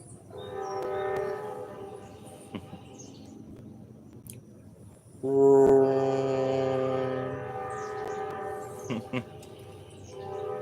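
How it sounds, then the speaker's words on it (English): A train horn sounds in long blasts, fading, then returns louder and closer as the train rolls past, with faint birdsong in the background. "I hear the train a-coming, rolling around the bend."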